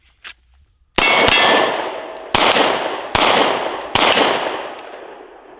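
Four loud, sharp clangs ring out from 9mm rounds fired from a Kiger 9 striking a steel target at an outdoor range. Each strike has a metallic ring that decays before the next, and a faint distant shot comes first.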